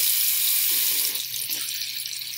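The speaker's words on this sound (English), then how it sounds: "we need to first turn on the water" A bathroom sink tap runs for handwashing, giving a steady, close hiss of flowing water that eases slightly partway through, with no voices.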